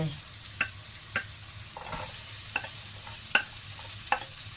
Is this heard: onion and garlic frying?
yes